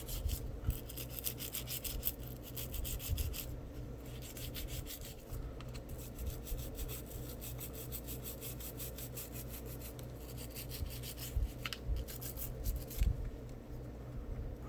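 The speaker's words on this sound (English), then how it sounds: "get a little bit of alcohol and lightly scrub the edges of it" A rag dampened with alcohol rubs lightly along the edges of a phone, making quiet, close, dry scrubbing strokes in an uneven rhythm with brief pauses between passes.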